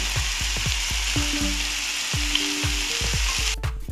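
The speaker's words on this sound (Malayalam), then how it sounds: "മസാലപ്പൊടികൾ വറുത്തെടുത്തത് ഇട്ട് കൊടുക്കുന്നുണ്ട്" Roasted spice powders sizzle steadily in a hot pan with minced beef while low thumping beats repeat underneath, ending with a brief scraping clatter.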